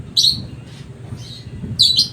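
Pigeons give a few short, sharp chirps, one burst near the start and another near the end, close and fairly loud, over a low background hum.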